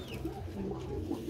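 Pigeons cooing softly in a backyard loft on a hot day, low steady throaty coos layered over one another with a faint high chirp near the start, no voices.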